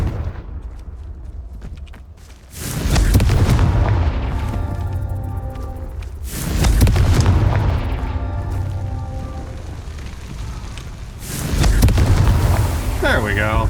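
Confringo fire spell explosions in the game Hogwarts Legacy: three loud, deep booming blasts, each swelling and lingering for several seconds, with a spoken voice in between.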